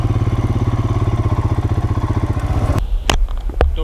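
A motorcycle engine idling close by with a steady throbbing pulse at a waterfall site, then cutting off abruptly, leaving a few sharp clicks and clatters, no talk.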